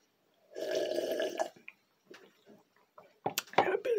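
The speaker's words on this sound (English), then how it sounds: "Let me take a swig of water." A person taking a swig of water, with a low bubbling gulp and slosh lasting about a second, then quiet clicks, a swallow and small mouth sounds up close.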